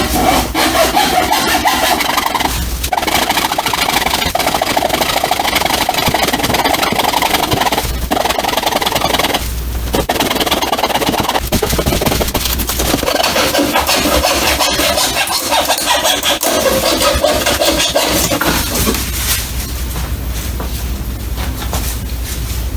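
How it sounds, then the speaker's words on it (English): Hacksaw cutting through faux ficus tree stalks, a loud close rasping back-and-forth sawing that runs continuously with brief pauses between strokes, no voices. "I brought the hacksaw back because I think it's easier to use the hacksaw."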